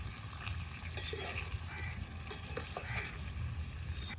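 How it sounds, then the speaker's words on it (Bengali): Spice paste is stirred into mutton frying with potatoes, tomatoes and green chillies at an outdoor winter picnic, with a soft steady sizzle and faint scraping of the spoon, no talk. "এখন বাটা মশলাও দিয়ে নেড়ে চেড়ে দিচ্ছি"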